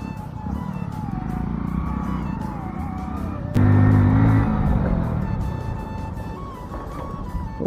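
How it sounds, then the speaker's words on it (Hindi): A motorbike rides down an off-road mountain slope, its engine whining and wavering steadily, with a brief loud tonal blast midway before the engine drone continues. "ओ गाइस बाइक देख पा रहे हो कहाँ से नीचे डला रहा है।"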